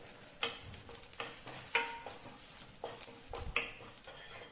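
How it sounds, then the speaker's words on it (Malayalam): Curry leaves frying until crisp in a pan for a Kuttanadan-style duck roast: a steady hiss of sizzling oil with repeated clinks and scrapes of stirring, moderately quiet, with no voices. "ഇതുപോലെ നന്നായിട്ട് നമുക്കൊന്ന് വറുത്തെടുക്കാം കറിവേപ്പില"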